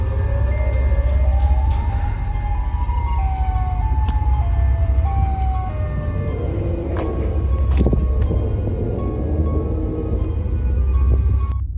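A wailing siren rising and falling over a loud, steady low rumble of outdoor noise, with scattered clanks and knocks.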